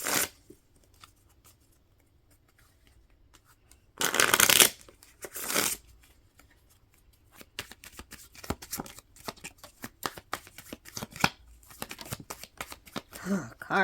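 Oracle cards shuffled by hand, with a couple of loud riffling bursts early on followed by many sharp, scattered taps and slaps as cards drop and spill onto a surface, close-up with no speech.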